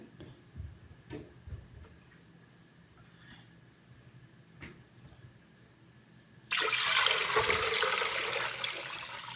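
Water gushes steadily into a pot for beef noodle soup, a loud, close pour that starts abruptly after several seconds of quiet clinks and soft kitchen noises.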